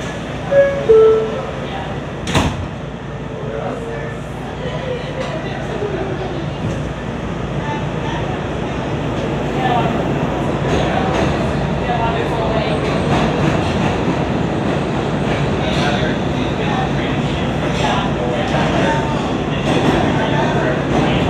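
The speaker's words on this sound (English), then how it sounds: "This is a Brooklyn-bound C local train." An R211A C local subway train on the New York route from 168 Street to Euclid Avenue runs between stations, heard from on board as a loud, steady rumble with rail clatter and a sharp bang near the start.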